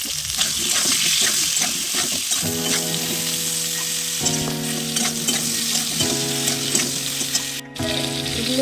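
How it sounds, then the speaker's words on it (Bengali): Raw banana, sweet potato and potato fry in hot oil tempered with fennel seeds, giving a steady, close sizzle with scraping stir strokes throughout and soft background music. "এগুলো একটু ভাজা ভাজা করে নেব।"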